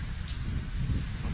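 Rain falls steadily over an outdoor lawn bowls green during the state championships, a soft, constant patter with a low windy rumble beneath and no clear voices.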